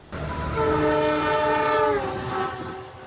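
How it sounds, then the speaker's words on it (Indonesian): Horn of the Tawang Jaya passenger train at Pelabuhan station, a loud sustained multi-tone blast that holds steady for nearly three seconds before easing off, with no talking. "Kereta api Tawang Jaya yang saya naiki telah tiba di stasiun Pelabuhan."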